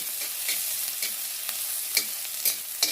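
Chopped shallots frying in hot coconut oil, a steady close sizzle with a few sharp spoon scrapes against the pan, no talk.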